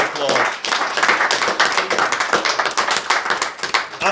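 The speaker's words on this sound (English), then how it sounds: "I just want to give them a real big round of applause" Applause from a community gathering honouring local volunteers, steady clapping from many hands sustained throughout with some voices mixed in.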